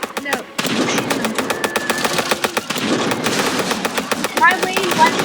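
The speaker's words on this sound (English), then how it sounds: "My main weapon is now machine gun." Tank machine gun in a tank simulator game, firing rapid steady bursts of loud, close shots over rumbling engine noise.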